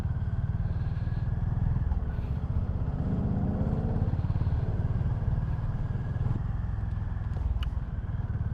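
Honda GB350S 350cc single-cylinder motorcycle on a UK road, a steady low engine thrum with wind rush throughout, close and continuous, with no voices.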